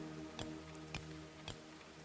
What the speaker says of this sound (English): out in the rain right now